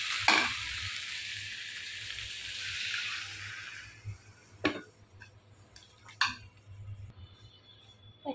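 Spices and okra fry in a pan, a loud, close, hissing sizzle for the first few seconds that then drops off, followed by occasional sharp scrapes and clinks of stirring.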